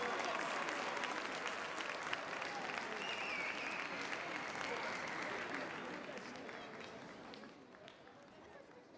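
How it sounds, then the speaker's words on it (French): Broad, loud crowd applause for a judo club at a martial arts evening in Meudon, a continuous wash of clapping that slowly fades toward the end. "On peut encore faire un tonnerre d'applaudissements s'il vous plaît à l'ASM Judo."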